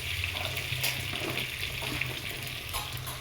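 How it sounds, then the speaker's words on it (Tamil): Bitter gourd frying in well-heated oil makes a close, continuous hiss with fine crackling spatters, steady throughout over a faint low rumble. "எண்ணெய் நல்லா காஞ்சி இருக்குது. அது போட்டு நல்லா பொரிச்சிடுங்க."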